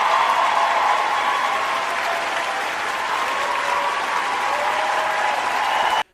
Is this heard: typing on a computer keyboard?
no